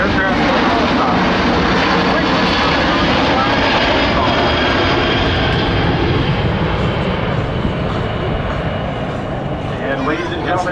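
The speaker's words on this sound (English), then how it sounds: "As the aircraft approaches from your right, please notice the upturned wing chip called winglet" A Boeing C-17 military transport jet flies past at the Oshkosh air show, a loud, sustained roar of engines filling the whole stretch while an announcer talks over it.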